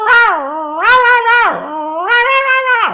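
A voice imitates Dino, the cartoon pet dinosaur from the Flintstones, with a loud, high, warbling yelping bark in three rising and falling bursts.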